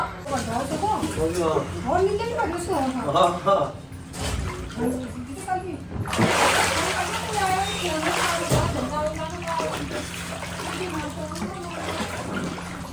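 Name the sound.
water splashing in a homemade swimming pool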